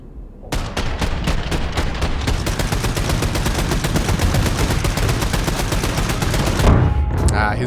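Rapid automatic gunfire from the Wolfenstein 2 video game rattles on continuously for several seconds in a dense, loud string of shots, ending with a short burst of other game noise.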